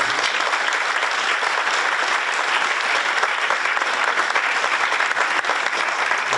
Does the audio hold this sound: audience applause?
yes